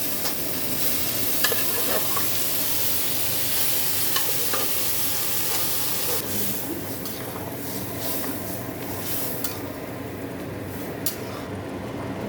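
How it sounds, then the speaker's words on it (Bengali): Tarka dal sizzles steadily in a pan as it is stirred, with scraping strokes and frying crackle continuing throughout, and no talk. "এবার আমি এই তরকা ডালটা দিয়ে দেবো।"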